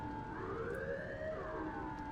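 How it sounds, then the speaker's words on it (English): Police sirens in the video game Cyberpunk 2077, rising and falling as a faint wailing tone over low background rumble, distant and fairly steady through the short stretch. "I can hear sirens."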